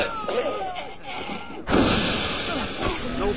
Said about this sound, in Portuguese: Calma, os caras começaram a atirar